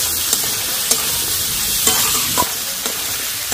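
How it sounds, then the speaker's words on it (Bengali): Chicken, peas, tomato and capsicum stir-fried for chicken fried rice, a loud steady sizzle punctuated by a few sharp scrapes and taps of a spatula against the pan. "একটু ভালো করে ভেজে নেব, এতে করে চিকেনটা ভালো করে সেদ্ধ হয়ে যাবে"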